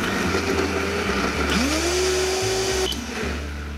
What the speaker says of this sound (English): we're going to blend this baby up